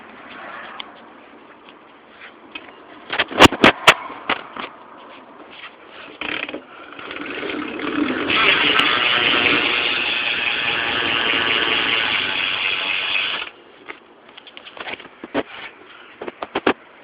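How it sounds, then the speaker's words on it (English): A bicycle rear freewheel hub, a Revolver on a 2013 bike with Primo pegs, ticks in a long buzzing run with a few sharp clicks before and after, close and loud, no voices. "here's the hub sound"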